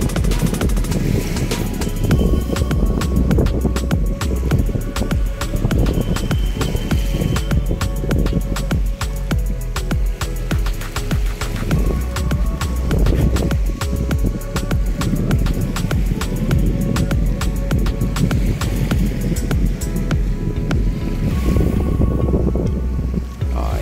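Wind buffets the microphone and waves wash steadily along Manila Bay at the Dolomite Beach in the Philippines, a loud, continuous rush with no break and no voices.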